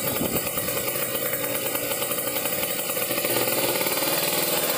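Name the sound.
motorcycle engine idling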